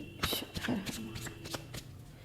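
Tarot cards being shuffled by hand, several quick riffling bursts of card noise close by, with a voice speaking softly alongside.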